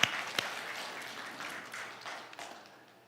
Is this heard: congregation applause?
yes